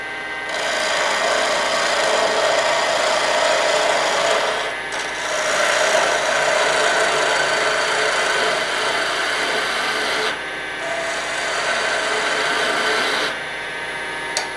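Pen blank spinning on a wood lathe, a steady rasping scrape of a cutting tool against the material in long passes separated by brief pauses, close and fairly loud.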